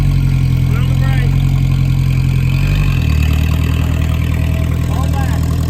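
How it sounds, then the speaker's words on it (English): A car engine idles steadily as the car backs out of a parking spot, loud and close with a slight shift in pitch partway through, while people talk over it. "You want to drive it out of the spot? Just watch it. Put the foot on the brake. You got a little bit. Now you can back up."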